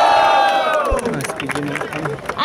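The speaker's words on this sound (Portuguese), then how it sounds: "barulho para quem gostou das rimas de AJ e QA" A crowd at a Brazilian rap battle cheers and shouts for a competing duo, a loud burst of noise that quickly settles into lively hubbub with scattered yells.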